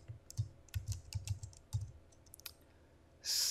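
Company information being typed into Peachtree on a computer keyboard: quick, close key taps in an uneven burst, then a few scattered clicks and a short louder clatter at the end, quiet and without talk.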